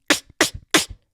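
Three sharp inhaled snare sounds, made by a voice imitating a drum, each a breathy hiss followed by a soft thump, evenly spaced and close.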